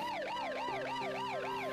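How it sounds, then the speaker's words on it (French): Ambulance siren at a road accident scene, evacuating the injured. It gives a steady, rising-and-falling wail that repeats evenly and sounds close, with no voices. "l'ambulance évacue les autres accidentés"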